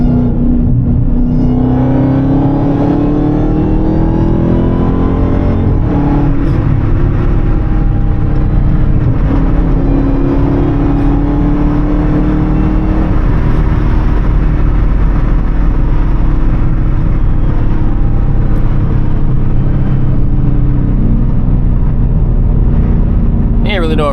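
A Dodge Hellcat and a cammed Chevy SS rumble and rev in slow rush-hour traffic, with a loud, steady engine drone, rising throttle sweeps and voices talking over it throughout.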